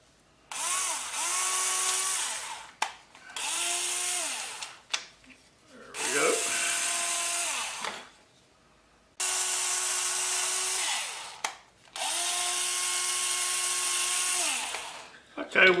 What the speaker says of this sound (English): we'll drill these holes before we remove the templates.